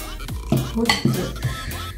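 Slime mixture of strong glue and water being stirred in a container: a few wet sloshing strokes and light clinks against the bowl, close and fairly loud, with no talking.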